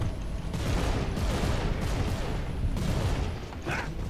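Rapid gunfire in the video game Gears of War 3, a dense, loud fusillade of overlapping shots and booms sustained across the whole stretch, with no voices.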